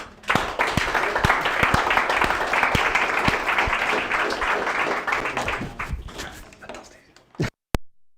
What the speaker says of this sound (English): So I want to have a bigger hand of applause for Aleks